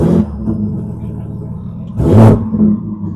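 A 1500hp BMW M2 engine idles with a low, steady rumble close by, swelling briefly in a short rev partway through.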